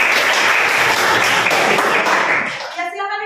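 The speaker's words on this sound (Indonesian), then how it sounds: "Ya, tepuk tangan dulu buat" A group bursts into loud, dense applause during a coaching session, the clapping holding steady before fading out as a voice starts speaking at the end.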